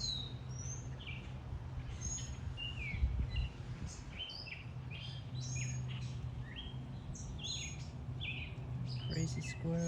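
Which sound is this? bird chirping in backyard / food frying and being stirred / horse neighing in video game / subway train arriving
bird chirping in backyard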